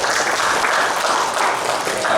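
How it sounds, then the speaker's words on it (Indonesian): A crowd claps for the newly inaugurated PWI Banyuasin chairman at the installation ceremony, loud dense applause filling the short stretch without pause. "Tepuk tangan untuk beliau."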